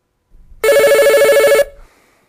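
A telephone bell rings once, loud and close, a rapid metallic trill lasting about a second that stops abruptly and leaves a short fading decay.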